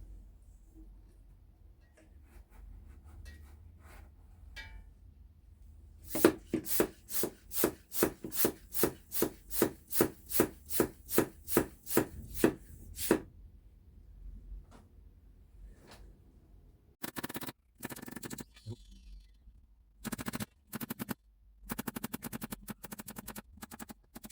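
A hand pump draws oil out of a lawn mower engine: a long run of regular, rapid squeaking strokes, a short pause, then choppier bursts of pumping, close and unaccompanied by speech.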